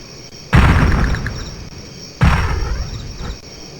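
Units firing in the turn-based strategy game Spellcross produce two heavy booming blasts about two seconds apart, each decaying with a rumbling tail; no talk is heard over them.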